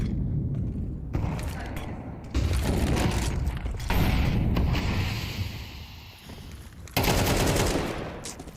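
Rapid automatic gunfire in a Counter-Strike match at a BLAST Premier esports final, dense bursts of shots with explosive booms, loud and continuous, cutting off and resuming abruptly.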